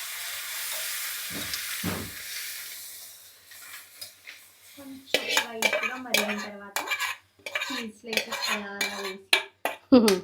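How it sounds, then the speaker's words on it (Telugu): Maida flour is stirred and roasted in butter in a pan: a faint sizzle gives way to clattering spoon scrapes and metal knocks against the pan in quick irregular bursts, close and fairly loud. "ఈ బటర్లో ఈ మైదాని కొంచెం బాగా వేయించుకోవాలన్నమాట."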